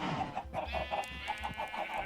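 Chickens on a video-game farm cluck in a quick, regular series of short, clear calls, close and steady throughout with no talking.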